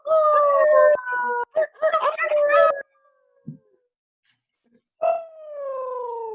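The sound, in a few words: person imitating a howl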